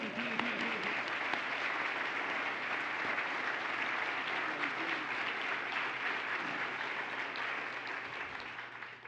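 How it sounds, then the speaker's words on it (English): Sustained audience applause at an interior design association's annual meeting, a steady wash of many hands clapping that holds evenly throughout with no break. "We're going to clap for you."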